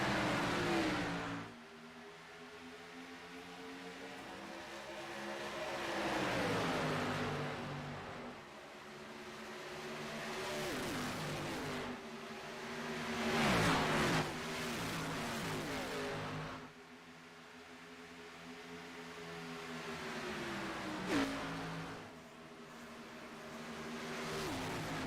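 Race cars in a night stock-car racing video game at Chicagoland Speedway roaring as they accelerate after the green flag, engines surging and falling in repeated waves, loud and continuous with no talk.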